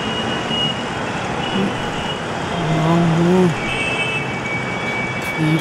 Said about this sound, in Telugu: ఈ ట్రాఫిక్ ఏంట్రా బాబు, ఈ ఊర్లో జనాలు ఎప్పుడు రోడ్ల మీదే ఉంటారా?